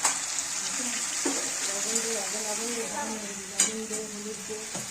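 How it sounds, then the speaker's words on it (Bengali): Spices and vegetables sizzling as they are stir-fried in a pan for a curry, a soft steady crackle with intermittent spatula clinks and scrapes, while a person talks quietly over the cooking. "মশলা দিয়ে কষানো হচ্ছে।"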